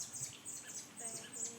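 A small bird chirps in short, thin bursts during a rescue, close and moderately loud, with a few higher tweets toward the end.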